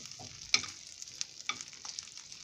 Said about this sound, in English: sausage is cut, so throw it in. Mix it up a little bit with the butter